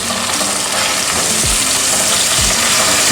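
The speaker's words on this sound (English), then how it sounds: "now we're just going to fry these, sear these until it's locked up and then almost cooked" Okra (bamya) and meat fry and sear in a hot pan for an Egyptian bamya, a loud, continuous close sizzle with occasional stirring scrapes and no talk.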